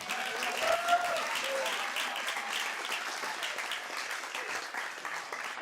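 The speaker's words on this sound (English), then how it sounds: "let's give one more round of applause to all of our fantastic speakers today" An audience applauds at the close of a series of talks, a sustained wash of many hands clapping at moderate distance, steady throughout without speech.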